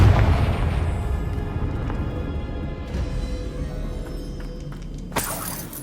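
A Confringo blasting spell detonates in Hogwarts Legacy with a loud, rumbling burst that decays over several seconds, and a sharp crackling crack flares near the end.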